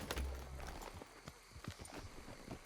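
Horse hooves clip-clop in a steady walking rhythm in the Red Dead Redemption 2 video game, the saddled horse's footfalls fairly faint against a low background hum.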